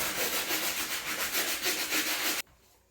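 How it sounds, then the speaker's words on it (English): Rhythmic scrubbing of a Jordan 11 sneaker sole, steady back-and-forth brushing strokes close up for over two seconds, then stopping abruptly into near silence. "Now for the scrubbing."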